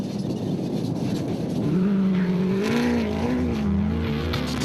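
Race car lapping a racing circuit during the Adenco 400 endurance race, built by Variawa Racing and troubled by gearbox problems and overheating; a loud, steady engine drone rises in pitch as it accelerates, with no talk.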